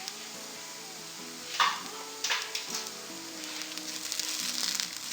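Chicken masala with coriander powder, chili and garam masala fries in a pan for Thalassery kalmas, a soft sizzle running throughout with a few louder stirring scrapes and a gentle swell toward the end.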